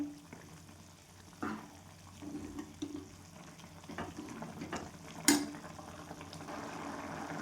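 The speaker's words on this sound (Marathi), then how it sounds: "आता आपलं वरण शिजलं आहे" Moong dal amti, a Maharashtrian mung bean lentil stew, simmers in a pot with faint, soft bubbling. A few light clinks and stirring sounds break through, and one sharper tap comes near the end.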